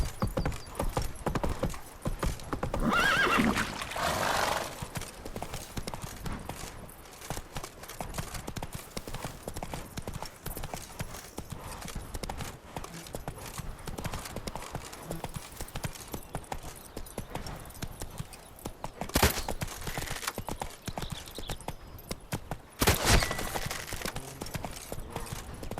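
Roach, the horse in The Witcher 3: Blood and Wine, galloping with steady rapid hoof clip-clops throughout, with a couple of louder bursts later that may be whinnies.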